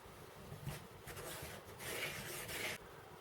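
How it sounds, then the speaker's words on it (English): Fingertips rub Trex fat into flour and salt in a basin, making a soft, dry, close scratchy rasp in short repeated strokes, faint and with no talk. "Rub in the Trex with the fingertips."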